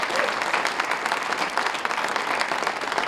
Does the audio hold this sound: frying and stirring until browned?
no